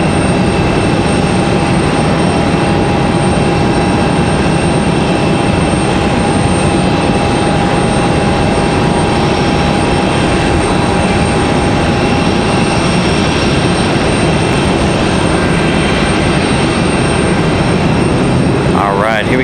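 Frontier Airlines airliner taxiing at Raleigh-Durham International Airport, a loud steady jet engine drone with a high whine held for most of the stretch, voices talking over it.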